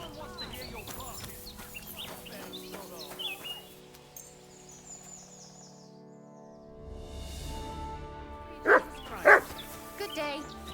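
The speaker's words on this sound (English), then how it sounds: "Get out of here, mutt. No one wants to hear your barking." A dog in the medieval game Kingdom Come: Deliverance II gives two sharp barks near the end, after a quiet stretch of ambient game sound and low background murmur.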